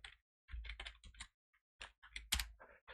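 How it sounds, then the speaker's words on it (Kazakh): Fingers type into a browser search box on a computer keyboard, with quick bursts of close, crisp keystrokes separated by short pauses and no talking. "мына жерде поиск Google Chrome'ға кіремін, немесе Edge'ға кіремін, мына жерге жазамын бердақ."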